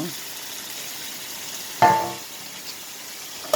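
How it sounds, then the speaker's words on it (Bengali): Potatoes frying in a pan are stirred, giving one short, close scraping burst with crackling sizzle midway and a brief second stir at the end, over quiet background hiss. "আলুগুলো দিয়ে আমরা আবার একটু নেড়ে ছেড়ে দিয়ে ভালো করে নেড়ে ছেড়ে দেবো।"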